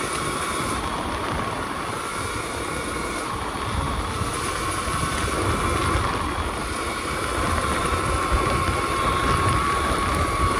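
A Funbike motorbike engine droning steadily while being ridden, a loud constant hum mixed with wind rush and no talking.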